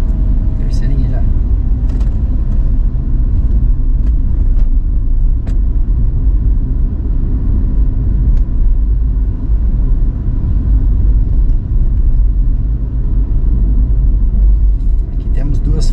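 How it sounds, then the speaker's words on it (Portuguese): A car accelerates in busy city avenue traffic during a driving lesson, a steady low engine and road rumble running throughout, with people talking inside the car over it. "Aceleradinha que você der, o carro já ganha velocidade"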